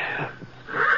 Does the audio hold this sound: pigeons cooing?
no